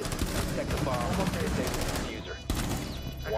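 Rapid gunfire in Rainbow Six Siege rattles out in dense, close bursts that run nearly continuously, with a brief lull before another sharp volley.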